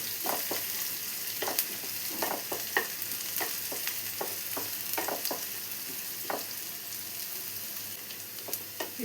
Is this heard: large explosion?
no